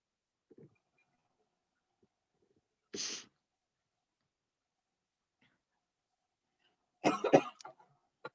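A single short, sharp sneeze stands out in a quiet room, followed several seconds later by a rougher burst like a cough or throat clearing.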